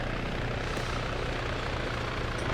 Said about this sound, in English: I'm a bit annoyed that that chopper's arrived.